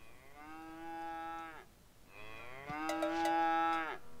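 A cow in The Sims 3 moos twice in a tic-tac-hoof game: two long, loud, drawn-out lowing calls with a short gap between them, the second joined by brief clicks and game effects.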